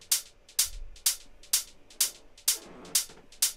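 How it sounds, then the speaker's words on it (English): Layered hi-hat loops in a bass house beat tick in a crisp, steady pattern of evenly spaced bright hits with a swung off-grid hat between them, clean and alone. "Altogether, those hats so far sound like this."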